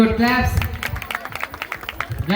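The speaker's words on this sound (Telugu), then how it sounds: "వెరీ గుడ్, క్లాప్స్ కొట్టండి అందరూ" Audience of schoolchildren at a church program clapping together in a steady run of sharp claps, following a brief adult voice at the start.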